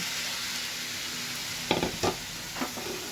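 Prawns are stirred into sesame paste and chili powder in a hot pan, a steady close sizzle with a few distinct scraping stirs of the spatula breaking through.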